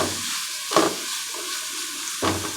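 Grated bottle gourd frying in a pan until soft for milk halwa, giving a steady hiss of sizzling with two distinct scrapes of a spoon stirring through it, close and even.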